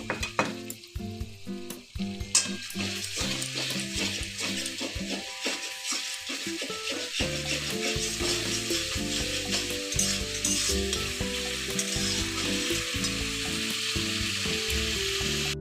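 Chili powder masala frying in a pan with a splash of water for a vegetarian cabbage curry, a loud, dense sizzle with clinks and scrapes of stirring, rising as the water hits.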